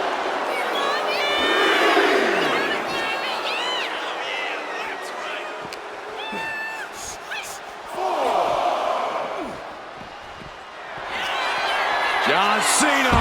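A video game arena crowd at a John Cena wrestling match roars and cheers loudly and continuously, swelling in waves of shouts and chants with a commentator talking over it throughout.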